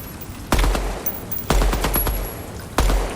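Three separate bursts of automatic gunfire in the shooter game DEADROP, each opening with a sharp loud crack and trailing into rapid shots, spaced about a second apart with quieter gaps between.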